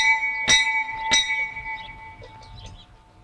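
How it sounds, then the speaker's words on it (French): A small bell marks the start of a battle film about Waterloo: two sharp metallic strikes about half a second apart, each leaving a clear sustained ringing tone that slowly fades over faint background noise. "Et voici la petite cloche, celle qui annonce le début du film de la bataille."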